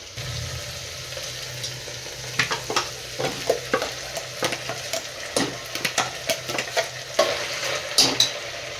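Ground masala paste of mixie-ground spices and water sizzles steadily in a pan while a spoon scrapes and stirs in repeated close strokes, for a lentil masala sambar, with no talk.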